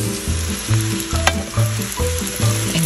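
Fried sausage and vegetables being stirred into stuffing mix for a Caribbean stuffing. A close, steady sizzle runs throughout, with rhythmic scraping stir strokes roughly every half second.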